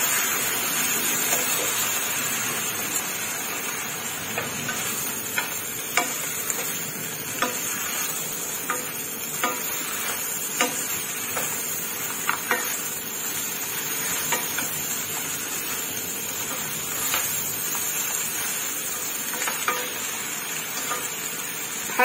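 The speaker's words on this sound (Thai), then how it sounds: "ผัดไปเรื่อยๆค่ะพี่น้องจนกว่าแครอทกับผักสิสุกค่ะ" Carrots and other vegetables are stir-fried in a pan for Hokkien noodles, with a steady sizzle running under repeated scraping and tapping strokes of the spatula at an even rhythm, close and with no talk.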